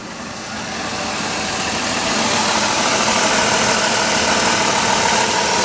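A Dodge Caravan engine idles steadily after a tune-up, a smooth, even running drone close to the listener that swells slightly in the first second and then holds constant, with no stumble and no talking.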